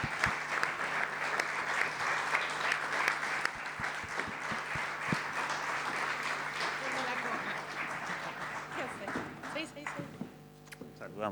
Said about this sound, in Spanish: Ahora tocaba el aplauso para Graciana.